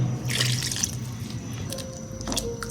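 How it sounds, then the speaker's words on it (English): About 3/4 cup of water is poured into a pot of thick sambar: a short burst of splashing near the start, then quiet trickling and faint drips. "It's a bit thick, so I'm going to add about 3/4 cup water."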